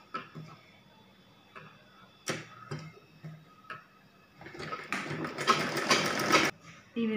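Sewing machine stitching a cloth flower, heard as an intermittent mechanical clatter building into a dense, loud whirring burst of stitching near the end, with quieter handling clicks and some talk earlier.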